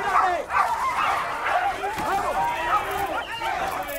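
Several dogs bark, yip and snarl through a fight in a film scene, loud and continuous, mixed with shouting voices and crowd noise throughout.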